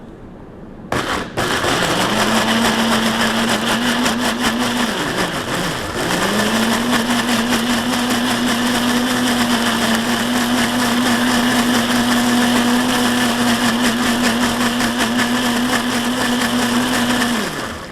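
A blender whirs steadily as it purees onion, garlic, chili and fine shrimp paste for nasi goreng, loud and close, briefly dipping in pitch and surging again, with no talking.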